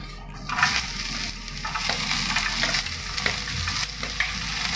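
One medium onion frying in coconut oil in a pan, a loud continuous sizzle with scraping stir strokes coming through at intervals, no talking.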